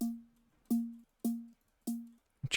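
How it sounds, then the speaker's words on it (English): Synthesized sub hit from an electronic music production, four deep tonal booms with sharp clicky attacks, each sustaining briefly before cutting off, evenly spaced and up close, with a short different burst at the end. "which is the sub hit"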